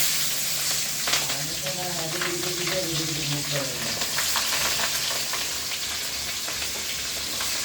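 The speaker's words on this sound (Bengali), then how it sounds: "তেল একটু গরম করে নিয়ে এই যে মরিচ কেটে রাখছিলাম, পেঁয়াজ কেটে রাখছিলাম, এগুলো দিয়ে দিলাম।" Chopped chili and onion sizzle in hot oil in a pan for a home dinner, a steady crackling fry with occasional stirring clatter and a faint voice in the background.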